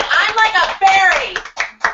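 A few people clap their hands as applause, a short burst of claps mixed with overlapping voices and laughter.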